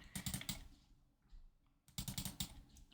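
Fingers type on a computer keyboard in two quick bursts of close, crisp key clicks separated by a short pause, with no one speaking.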